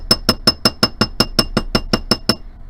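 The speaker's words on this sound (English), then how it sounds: "texturing it with the round side of the hammer" A hammer's round face strikes a sterling silver ring, peening a textured finish: twelve bright, ringing metallic taps in an even, fairly quick rhythm, close and clear with no voices.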